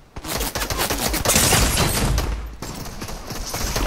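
Gunfire in Fortnite Chapter 4 free-for-all, a close, loud burst of rapid shots and crackling impacts running continuously for several seconds.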